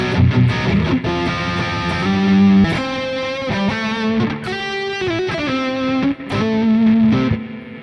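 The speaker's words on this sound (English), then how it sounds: "we're going to try some high gain tones. Okay, high gain on the neck." Sire J3 electric guitar played with a distorted high-gain tone on the neck pickup, loud sustained chords and single-note phrases that ring out without pause for nearly eight seconds.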